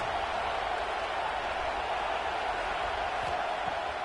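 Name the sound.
stadium crowd cheering for the defense in a football video game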